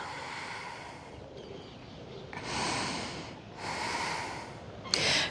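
Slow, airy breathing during a gentle outdoor yoga flow in Hyde Park, London: long soft breaths swelling and fading close by, with no talking.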